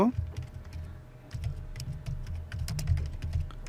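Typing on a computer keyboard, with quick irregular clicks and taps close by at a moderate level over a low background hum, and a voice speaking briefly at the start.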